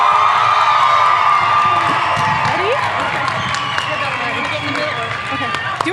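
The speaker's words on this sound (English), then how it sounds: "One more round of applause for the class of 2021." A large graduation crowd at the 2021 Cabarrus-Kannapolis Early College High School ceremony keeps up loud, continuous clapping and cheering, with shouts and whoops mixed into the steady roar.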